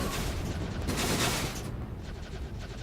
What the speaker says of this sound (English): There's explosions left, right and centre.